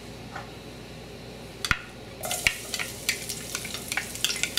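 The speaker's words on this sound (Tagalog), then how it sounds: "Mag-init lang tayo ng cooking oil dito sa isang cooking pot. At igigisa na natin yung bawang at yung sibuyas." Crushed garlic hits hot cooking oil in a pot, a gentle sizzle starting midway with scattered crackles and light stirring scrapes, close and fairly quiet, with no talking.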